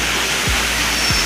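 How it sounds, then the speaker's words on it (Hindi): A waterfall at Kailash cave in India: a loud, steady roar of rushing water fills the short moment, close and unbroken, with no voices. "बहुत ही सुंदर वाटरफॉल आप लोग देख सकते हैं"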